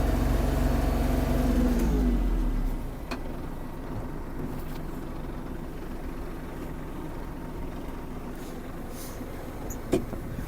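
Kubota GL-261 Japanese mini tractor with cab driving in creep mode in eighth gear, its engine a steady low drone that drops in level early on and then holds even, heard from inside the cab with no talking.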